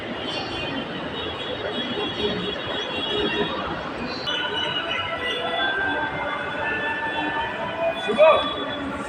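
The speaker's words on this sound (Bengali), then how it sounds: "মেট্রো রেল আপনারা দেখতে পাচ্ছেন," Metro rail station ambience: a steady hum of crowd murmur and station machinery, with voices talking nearby and a brief higher tone near the end.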